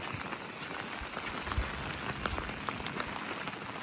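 Heavy rain pours steadily in a coastal town during a prolonged downpour, a dense continuous hiss with scattered sharper drops and spatters close by, no voices.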